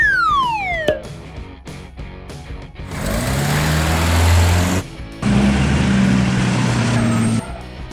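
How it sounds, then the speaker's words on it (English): A cartoon monster minivan from a kids' vehicle game makes engine noises: a descending whistle and short clunks give way to two loud, rumbling revving bursts separated by a brief pause. "Find the monster minivan."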